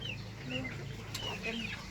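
Chickens kept together with ducks and rabbits on a farm in Laos cluck faintly in short scattered calls over a soft outdoor background, with a hint of a distant voice.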